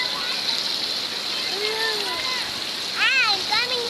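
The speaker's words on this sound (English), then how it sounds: "You're splashing me, Rex." Water splashes and sloshes steadily in a pool while a voice rises over it, with a burst of shrill chatter near the end.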